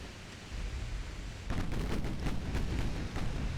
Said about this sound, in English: all guns are firing